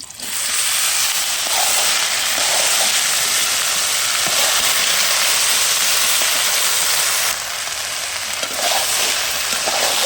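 Okra frying in hot oil with browned onions, a loud continuous sizzle and hiss that stays steady throughout, close up, with faint stirring under it.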